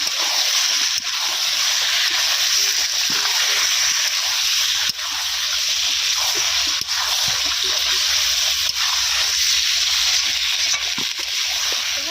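Chicken with masala and fried potatoes cooking in a pan outdoors in heavy rain, giving a steady, dense hiss of sizzling and frying, loud and continuous throughout with faint stirring underneath.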